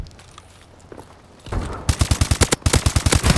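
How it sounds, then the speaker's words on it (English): Automatic gunfire in Call of Duty: Advanced Warfare multiplayer, quiet game noise for a second and a half, then a loud rapid burst of closely spaced shots continuing to the end. "I'm just going to shoot straight down this middle part"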